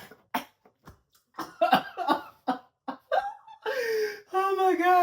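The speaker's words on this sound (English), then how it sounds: "why people be coughing on camera?" A person coughs and chuckles in short, sharp bursts, close up, then draws out a few vocal sounds that are partly laughter.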